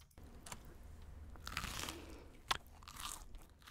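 Crunchy chewing sounds of a bento being eaten in the game The Convenience Store come in a few close bursts, with one sharp crisp bite standing out amid quiet surroundings.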